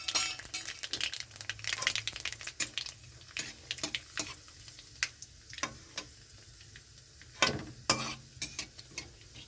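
Dried red chillies and black cumin fry in hot mustard oil in a kadai, with a soft sizzle broken by frequent metallic clinks and scrapes of a spatula stirring against the pan.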